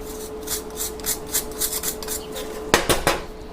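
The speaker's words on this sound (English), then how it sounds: "we need to scrape all the burnt stuff out of our molds" Burnt material is scraped out of casting molds in a jewellery-making workshop: a rhythmic series of close, rasping scrapes, ending in a few sharper metallic scratches.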